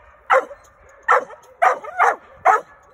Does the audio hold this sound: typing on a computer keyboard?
no